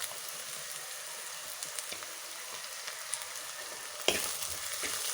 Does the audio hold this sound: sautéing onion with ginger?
yes